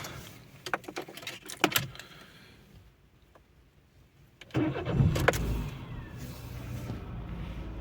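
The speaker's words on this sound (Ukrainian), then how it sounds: "продемонструю, як запускається двигун." Keys rattle and click, then after a quiet pause the 1.6 MPI petrol engine of a 2012 Dacia Logan MCV cranks and catches, settling into a steady idle close by.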